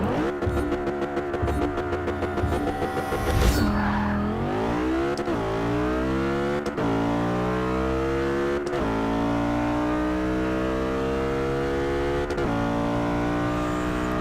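A race car in the video game Forza 6 revs hard through repeated upshifts, each gear change breaking the rising engine whine with a sharp click, loud and continuous with no voices.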